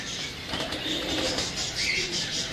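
Teddy pigeons cooing softly and steadily over a faint hiss of background noise, with no one speaking.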